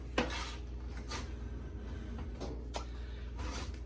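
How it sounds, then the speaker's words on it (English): A turkey noodle soup being stirred in a pot, with a few soft scrapes and clinks of the utensil against the pot over a steady low kitchen hum. "you always want to stir from the bottom"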